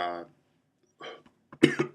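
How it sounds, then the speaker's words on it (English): A brief voice is followed by a couple of harsh, close coughs after a short silence. "cough's coming back again"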